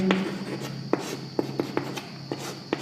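Pen or chalk scratching out notes during a 12th-grade physics lesson on current and drift velocity, a steady rubbing stroke broken by several sharp taps, close and fairly quiet with no talk.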